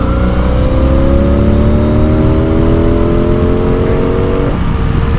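Honda Magna motorcycle engine running loudly and close, a steady droning exhaust that climbs gently in pitch as it pulls, then eases off near the end, with no talk.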